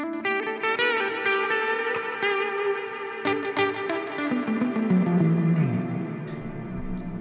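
Guitar riff through a Donner Arena 2000 multi-effects unit set to delay and reverb on an AC30-style amp into a Vox 2x12 cabinet, a run of picked notes with distortion and echoing tails ringing on continuously for several seconds.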